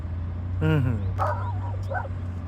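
A dog at an outdoor flea market gives a short whimpering yip and a few softer barks close by, over a steady engine hum.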